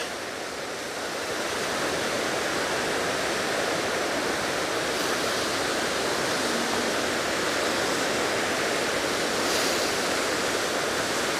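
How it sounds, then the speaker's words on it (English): Barnafoss waterfall in Iceland roars in a steady, loud broadband rush of falling water that holds constant throughout, with no voices over it. "So this is called Baby's Waterfall."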